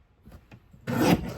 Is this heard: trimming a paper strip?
yes